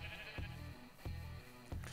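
Sheep in the Minecraft video game bleat three times in a steady rhythm, each call short and clear, close by with no talking.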